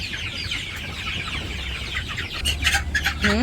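Village chickens, hens and a rooster, cluck in short, close bursts that grow louder toward the end, over a low background rumble.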